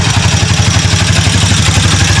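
A Rusi Classic 250 motorcycle with a smoky exhaust idles close by, its single-cylinder engine thumping in a steady, rapid rhythm with a loud, continuous clatter throughout.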